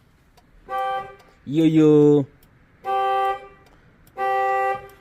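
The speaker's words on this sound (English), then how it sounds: "my honk finally is functioning" A repaired car horn sounds three steady, evenly spaced honks, each about half a second long and loud in a quiet setting. A brief, louder, differently pitched tone or voice comes between the first two honks.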